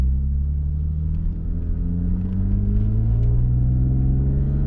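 An old Lexus car on a test drive, its engine rumbling steadily from inside the cabin with pitch slowly rising as it accelerates; loud, continuous and without talk.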